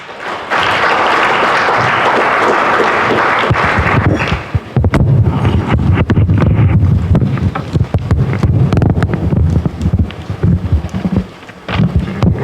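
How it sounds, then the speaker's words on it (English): Audience applause in a large hall at a high-level dialogue on children in armed conflict, a dense, steady clatter of many hands lasting the whole stretch and swelling slightly in the middle before easing. "A round of applause, please."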